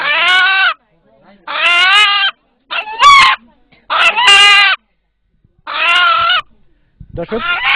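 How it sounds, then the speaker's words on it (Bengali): An eight-month-old rooster crowing close by. Several loud separate calls come at short, fairly even gaps, with silence in between. "এখানে উপস্থিত যারা এই মোরগের ডাক শুনলেন"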